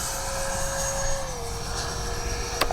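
A Freewing 70mm Me 262 RC jet makes a no-flaps takeoff, its ducted-fan whine droning steadily with a thin tone sliding slightly in pitch, moderately loud with a short sharp click near the end.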